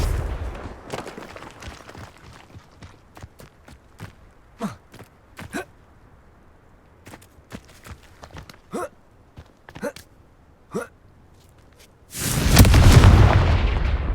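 A Confringo blasting spell from Hogwarts Legacy goes off near the end as a loud, broadband explosive burst. Before it comes a long stretch of faint, sparse clicks and small taps.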